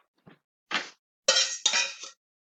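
Contents of a second can scraped and stirred into a pot of melted cheese and cream cheese, making four short, separate metallic clinks and scrapes with quiet gaps between them.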